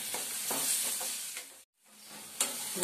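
Chili masala, turmeric and half a tomato sauté in a pan with a steady close sizzle and scraping stirs, broken by a brief silent gap before the frying resumes.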